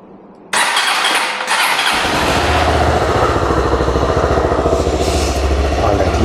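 A Honda XR190L motorcycle engine is started, cranking briefly and then catching into a loud, steady idle that runs close and continuous to the end.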